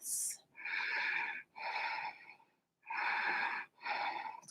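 Slow, deep breaths held in a standing yoga twist during a vinyasa flow, four long airy breath sounds with short gaps between them, close and steady with no talking.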